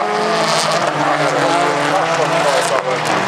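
Finnish folk race cars pull away from the start line together, with a loud, sustained roar of revving engines and tyre noise that fills the scene, while a commentator talks over it.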